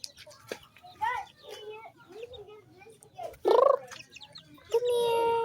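Chickens cluck and squawk close by on a farm, with a louder alarmed squawk partway through and a sustained call near the end, while a person talks softly in the background.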